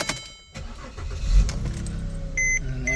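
A 2008-2014 Mercedes W204 C300 starts up after a short silence: a close, sudden whir and catch of the engine settles into a steady idle, and two brief electronic chime beeps sound near the end.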